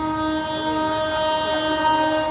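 Passing CSMT–Solapur Vande Bharat Express train sounding a sustained multi-tone horn, steady and fairly loud, with faint rail rumble underneath and no voices.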